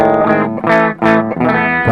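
An electric guitar plays through a Flamma FS06 digital preamp on a high-gain, distorted tone: a few loud, sustained chords or notes, each struck and held, with brief gaps between them.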